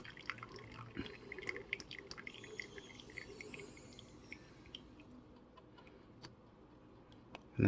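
Water dripping through a pourover brew made on a Decent Espresso DE1+Pro, a soft, steady run of small irregular drips and ticks at close range over a faint hiss, quiet and alone with no talking.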